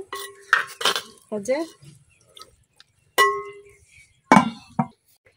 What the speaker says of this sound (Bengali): এখন আমি তরকারি রান্না করার লেগে কড়াইটা বসা দিতেছি।